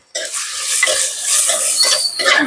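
Tindora curry with ghee, coriander-cumin powder and cilantro being stirred in a pan, close scraping and clinking of a spoon over a light sizzle, with brief sharp metallic scrapes.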